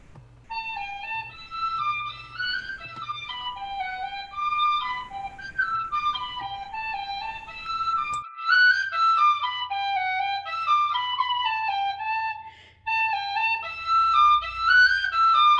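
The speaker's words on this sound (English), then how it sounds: "Please enjoy Walking the Floor, a Celtic penny whistle melody." A Celtic penny whistle plays the slow melody Walking the Floor at a Sunday service, bright, ornamented notes flowing continuously and clearly over a faint low hum.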